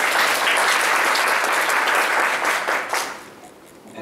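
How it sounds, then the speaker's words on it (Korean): A lecture audience applauds a speaker being introduced at a big data and machine learning talk, loud sustained clapping from a full room that tapers off toward the end. "여러분 박수 부탁드리겠습니다."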